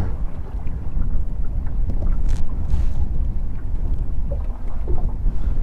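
Strong wind buffets the microphone in heavy, rumbling gusts on a boat, with water and engine noise underneath; no one speaks.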